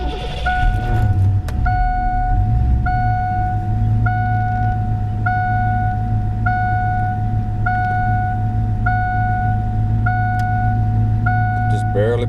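A Foxbody Mustang engine idles with a steady low rumble while a repeating electronic chime beeps at a regular interval throughout; the engine's drone continues under the tones without a clear cutoff.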